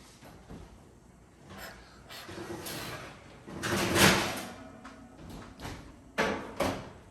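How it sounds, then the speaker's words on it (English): An oven door clunks and slides open with a few soft knocks and a broader rushing swell, then sharper bumps follow as toasted brioche bread comes out, all at close range without speech. "I am gonna grab our toasted brioche bread out of the oven"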